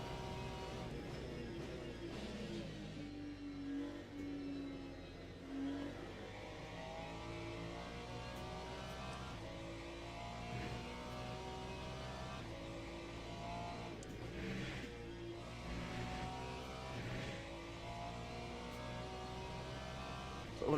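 GT3 race car engine in the sim racing game Le Mans Ultimate, lapping a mountain circuit: a steady, loud mid-range engine drone with rising and falling revs and gear changes, continuous throughout with no talk.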